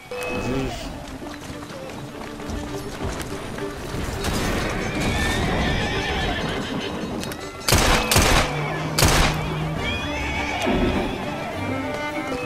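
Horse whinnies and galloping hooves sound from a video game amid dense in-game noise, with two loud sharp bursts near the end and speech mixed throughout.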